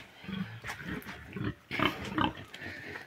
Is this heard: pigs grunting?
yes